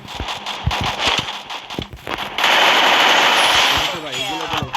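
Video game gunfire rattles in loud rapid bursts, with fast automatic fire and a sustained volley near the end. A voice speaks over it.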